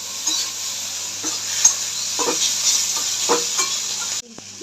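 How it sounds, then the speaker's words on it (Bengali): Pointed gourd paste frying in a pan, giving a steady sizzle and hiss with faint intermittent stirring scrapes throughout, cutting off abruptly at the end. "পটলটা যাতে রস না থাকে একটু ভালো করে একটু ভাজবো।"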